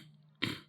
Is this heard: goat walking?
no